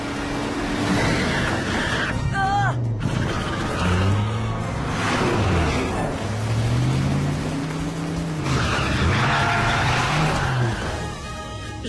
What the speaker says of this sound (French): Joli dérapage contrôlé.